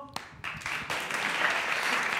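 An audience at a corporate show bursts into applause that starts with a few claps and swells into a dense, steady clapping, close and loud.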